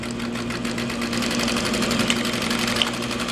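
A Juki DU1181 industrial sewing machine runs a steady back tack stitch, its fast rhythmic needle chatter and motor hum continuous and close with no talk.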